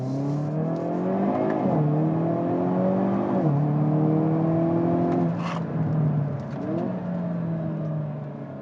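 A Hyundai Kona N compact hot hatch accelerating hard, its engine note rising steadily through several gears with distinct shift breaks, loud and close throughout.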